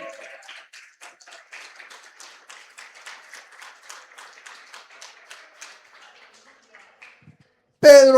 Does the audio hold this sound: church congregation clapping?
yes